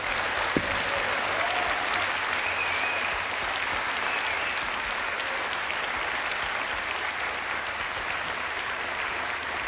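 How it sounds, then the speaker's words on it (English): A live show audience claps in sustained, dense applause that holds steady and fairly loud throughout, with no voices standing out above it. "please give Helen a big round of applause."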